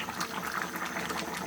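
Vegetable curry with fish and bori lentil dumplings simmering in a pot, giving a steady close bubbling hiss with no voices over it.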